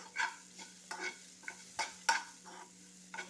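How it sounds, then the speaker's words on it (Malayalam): Ground herbal-leaf chutney being stirred and sautéed in a pan, a spoon scraping in short repeated strokes over a soft sizzle, quiet and close with no talking. "അരച്ച ചമ്മന്തി ചേർത്ത് കൊടുത്തു. ഇനി കുറച്ചൊന്ന് വഴറ്റും."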